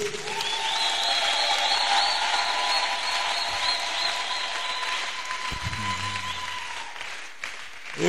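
A church congregation at a French-language service breaks into sustained, even applause that carries on steadily for several seconds before tapering off, with a faint clatter near the end.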